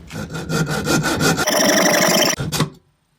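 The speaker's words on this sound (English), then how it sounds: "So I'm just going to put it in the vise and hacksaw it." A hacksaw cuts through the outer throttle cable of a Ford Escort held in a vise, with rapid rhythmic back-and-forth rasping strokes that grow harsher and denser before stopping abruptly, loud and close with no talk.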